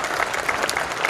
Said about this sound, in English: Give him a big clap.